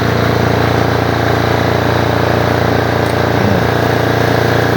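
A 6.5 kVA diesel generator runs steadily close by, with a continuous droning engine hum and a brief voice heard over it.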